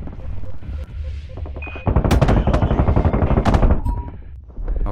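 A space gun fires in the shooter game Boundary: a loud, close automatic burst of rapid shots lasting about two seconds, with quieter single shots around it.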